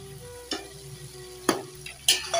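Chicken pieces, onion and tomato frying together in a pan, a low steady sizzle under a faint background hum, punctuated by three or four sharp spatula knocks and scrapes against the pan.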